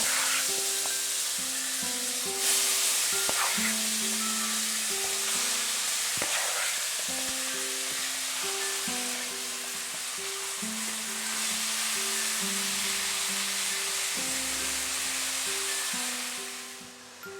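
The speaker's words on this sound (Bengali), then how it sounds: "জিরে আর তেজপাতাটাকেও 30 সেকেন্ড মতো আমি ফ্রাই করে নিচ্ছি মিডিয়াম টু হাই ফ্লেমে।" Cumin seeds and bay leaf fry with a mixture of kachki fish, potato and onion in a pan over a medium-high flame, giving a steady, close sizzle throughout with soft background music beneath.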